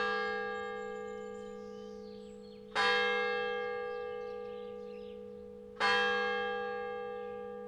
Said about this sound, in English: The St. Peter bell was put up there in 1867